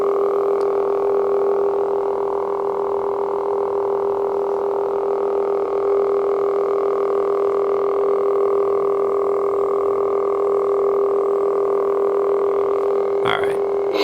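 A Luke Skywalker Return of the Jedi lightsaber sound font plays its steady electronic hum through the holes of a Graflex clamp with no pommel venting. The hum drones continuously and fairly loud, with a brief swing or clash flare near the end.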